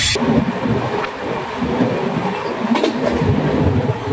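A Tamralipta Express passenger train running from Howrah toward Digha, heard from inside the carriage as a steady, loud rumble and rattle with faint metallic clatter, no talk.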